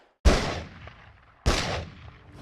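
Two heavy, booming gunshots from the sweetened RoboCop firing effect, layered from many guns and synth sweeteners, each a sharp loud blast followed by a long rumbling decay.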